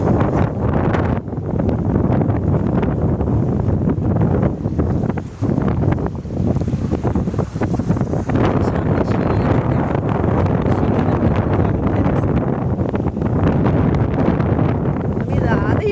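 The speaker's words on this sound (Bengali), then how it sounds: "প্রচুর পরিমাণে ঢেউ হচ্ছে নদীতে।" Strong cyclone Remal wind buffets the microphone beside the rough Bidyadhari river, a loud continuous roar with churning water and gusts rising and falling throughout.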